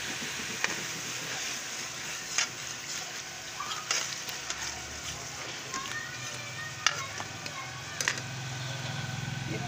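Two medium-sized tomatoes sizzling as they go into a hot pan of chicken liver and tinda curry, a steady fry hiss with light clatter and stirring, and a voice talking over it.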